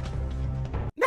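Dog barking in a film scene, a loud sustained bark with harmonics filling most of the second, followed by a short gap and a sharper yelp.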